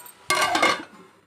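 Utensil scraping and stirring eggplant tomato curry with chili powder in a pan, a short close burst of metal-on-pan clatter lasting about half a second.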